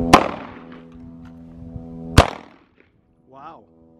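Two sharp, loud Glock 19 Gen 5 pistol shots ring out about two seconds apart, each with a short echoing tail, and a voice briefly follows.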